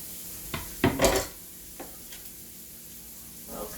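Small pieces of chopped duck meat cooking in a pot for dirty rice, a faint sizzle under a few clattering knocks of a utensil against the pot.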